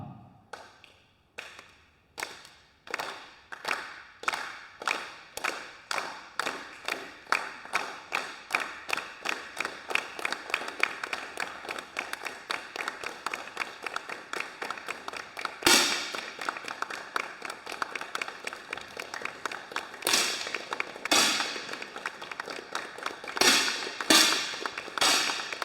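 Rapid sharp air rifle shots crack one after another at a women's 10m air rifle final, a dense overlapping volley of many competitors firing with steady irregular rhythm, close and crisp, with a few louder cracks standing out.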